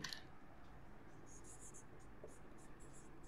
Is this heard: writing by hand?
yes